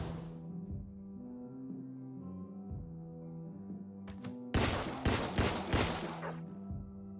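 Gunfire rings out in the video game Deadbolt: a quick burst of five or six loud, sharp shots breaks in after a quiet stretch of low background music.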